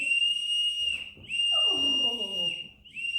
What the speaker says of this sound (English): in about a second, Mrs. Brewster, you'll hear the whistle, and the band will strike up Old Lang Syne